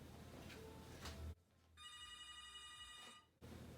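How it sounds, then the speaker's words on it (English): A telephone rings with bright repeated electronic trills, fairly close and clear, after some low background rumble, with no one talking over it. "The phone hasn't stopped ringing, of course"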